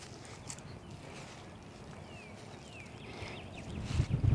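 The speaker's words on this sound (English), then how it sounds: "I need it to cut through the wind because I've got a pretty significant headwind." Strong headwind on an open disc golf course, a steady broadband rush with gusty low rumble buffeting that builds toward the end, with no voices.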